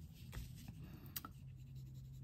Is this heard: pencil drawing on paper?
yes